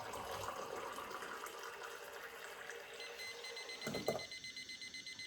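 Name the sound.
liquid level indicator beeping as cup fills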